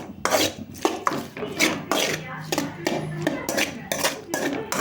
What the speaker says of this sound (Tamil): இப்போ இது ஒரு வதக்குறோம். ஒரு 10 நிமிஷம் எண்ணெயிலே வதங்கணும்.